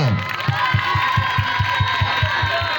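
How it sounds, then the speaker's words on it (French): A school assembly audience of students and families welcoming new sixth- and tenth-year pupils cheers and applauds loudly, with rhythmic unison clapping beating steadily under a continuous crowd roar and shouting voices. "Il faut applaudir encore."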